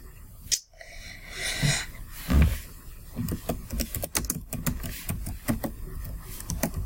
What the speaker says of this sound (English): I'm just typing something in the chat.